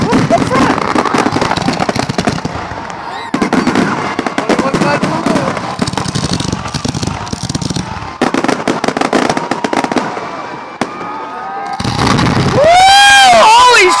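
The finale of the East Syracuse fireworks display: dense, loud bursts and rapid crackling pops overlap continuously, with whistling rockets near the end, while nearby spectators talk and cheer throughout.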